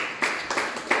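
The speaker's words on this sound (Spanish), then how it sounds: "Dale un fuerte aplauso, aleluya." A church congregation clapping in a loose rhythm of three or four quick bursts, fairly close and moderately loud.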